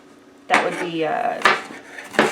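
A knife chops vegetables finely on a cutting board, with three sharp, separate knocks spaced about a second apart and a soft scraping between them, close by.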